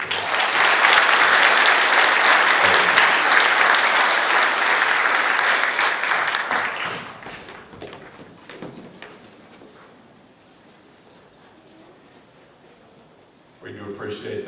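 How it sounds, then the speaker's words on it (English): An audience at a school district veterans breakfast gives a loud, dense round of applause that holds steady for several seconds, then fades into quieter room murmur and scattered sounds before a brief noise at the very end. "Let's give them a round of applause."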